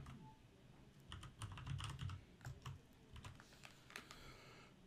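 Fast, light keystrokes on a computer keyboard, clicking in quick irregular bursts with short pauses, close and fairly quiet, no voices.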